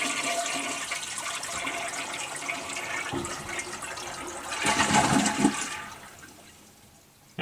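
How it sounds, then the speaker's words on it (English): A household toilet flushes with water shut off, the tank rushing and draining loudly for several seconds. It swells to a gurgling peak, then tapers away without refilling. "we're just going to flush our toilet"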